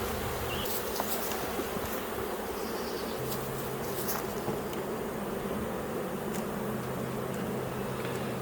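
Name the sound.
honeybees buzzing in an open beehive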